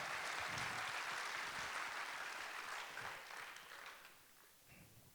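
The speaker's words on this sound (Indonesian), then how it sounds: "if you're going to clap, give him a real clap" Steady applause from a church conference crowd, dense and sustained, gradually tapering off toward the end.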